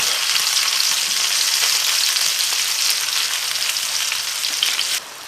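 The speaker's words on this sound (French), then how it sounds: "on va faire revenir nos aubergines. On est sur un feu vif" Aubergines fry over high heat in a pan with a loud, dense, continuous sizzle. A few stirring scuffs sit under it, and the sizzle drops abruptly near the end.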